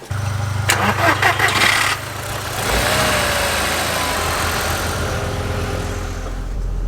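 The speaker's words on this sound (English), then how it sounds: "It's got a bit of a high idle, but that's alright. They all do when they start up." An Audi TT Quattro Mk1 engine fires up and settles into a high idle, starting with a loud rough burst before holding a steady mid-pitched hum.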